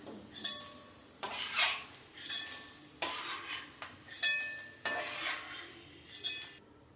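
Roasted peanuts are scooped out of a pan with a metal spoon, giving about seven quick scraping, rattling strokes in an even rhythm, close and fairly quiet with short pauses between.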